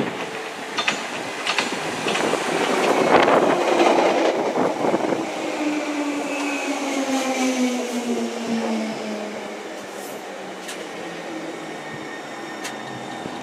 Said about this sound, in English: Approaching now is the 1216 Bakerloo Line train to Harrow and Wealdstone.